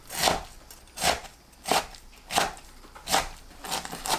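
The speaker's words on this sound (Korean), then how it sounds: "뭉친 곳 대충 풀고 1cm 길이로 썰어주세요." A knife chops vegetables into 1 cm lengths with six evenly spaced, crisp strokes about three-quarters of a second apart. The cuts sound close and clear with no talk.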